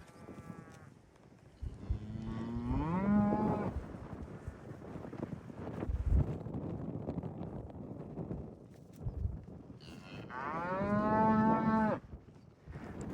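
Cattle on a windy desert ranch bellow as they are gathered, with two long, drawn-out moos several seconds apart over constant wind buffeting the microphone.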